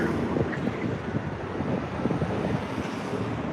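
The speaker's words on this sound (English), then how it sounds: "it's a windy one out here" Strong wind buffets the microphone in a constant low roar, with gusty rumbling throughout and no voices.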